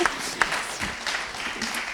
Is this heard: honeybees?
no